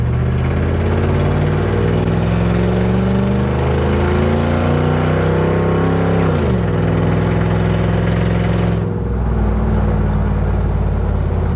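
A loud Toyota Hilux truck engine with no exhaust roars steadily close by, its pitch climbing and then dropping as it revs, with a brief dip near the end before it settles.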